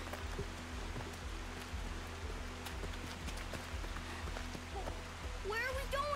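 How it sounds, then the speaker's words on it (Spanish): Steady rain pattering down outdoors, a continuous wash of drops heard under people talking throughout. "Ah, no, claro, y llueve."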